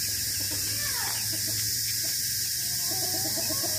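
Chickens cluck in short repeated bursts at a rural spot where farmers sell porang, heard at moderate distance over a constant loud hiss and low hum of background noise.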